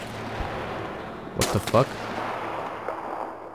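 Two sharp rifle cracks from a sniper in This War of Mine, a gun report and a quick follow-up shot, ringing out over a steady low background hum, with a startled voice speaking just after.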